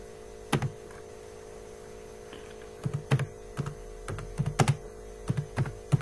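Short clusters of crisp key taps on a computer keyboard while writing Java code, irregular bursts of typing heard close up over a steady electrical mains hum.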